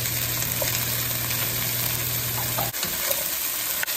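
Chopped onion and two diced potatoes hit hot oil in a pan with chicken, giving a steady, close sizzle under a faint hum, broken by a couple of sharp clicks toward the end.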